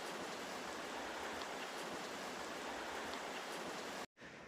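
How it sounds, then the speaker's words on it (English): Heavy rain pours on a mountain trail in a dense, steady hiss that fills the whole stretch, quiet and uniform, with a brief dropout just before the end. "it's raining so hard."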